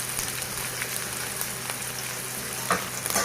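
Green chillies and ginger fry in a hot pan for Telugu masala rava idli, giving a steady, close hiss of sizzling oil with a few brief louder crackles near the end; no one speaks.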